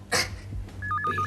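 A telephone rings at home with a short repeating electronic ring pattern, faint and brief, following a soft thump.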